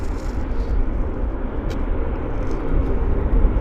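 A Qantas airliner at Vancouver Airport gives off a steady, broad jet rumble heard from a distance, continuous and moderately loud with no speech over it.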